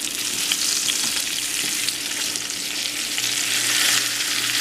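Salisbury steak patties sizzle and spit steadily in a hot pan as they are flipped, a dense, continuous frying hiss close up with no talk over it.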